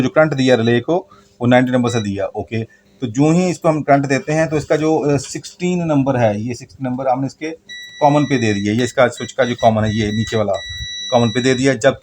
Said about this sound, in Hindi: ये देखें, ये FD फैन की आपको बीप सुनाई दे रही होगी।